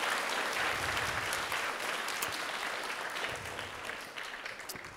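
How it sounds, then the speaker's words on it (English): An audience applauds a guest at a First Lady event for Take Our Daughters and Sons to Work Day: steady, dense clapping that carries throughout and slowly tapers toward the end, with no talk over it. "Let's give Maida a round of applause"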